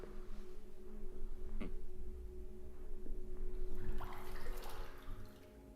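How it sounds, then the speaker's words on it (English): Footsteps sloshing through water in the video game The Complex: Expedition, soft splashes with a brief drip, over a low steady hum, growing louder and more splashy toward the end. "And there's the sound of me walking through water."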